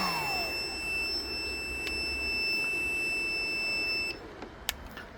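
Steady high electronic beeping tones run for about four seconds over a low hum, then cut off, followed by a few faint clicks.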